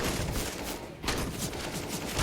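Rapid bursts of gunfire in the video game CS:GO crackle almost continuously, dense and loud, with a brief lull in the middle.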